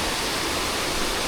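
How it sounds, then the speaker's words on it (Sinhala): A brief, steady rush of stream water tumbling over rocks toward the Aban river near Riverston in the Dumbara valley, a dense close hiss with no voices. "මේ වතුර ටික මෙහෙම ගලලා යන්නේ මේ අබං ගඟට"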